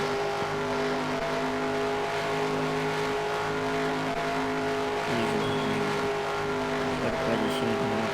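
Race cars drive with a continuous engine drone and steady revving tones, and voices chatter faintly beneath the noise.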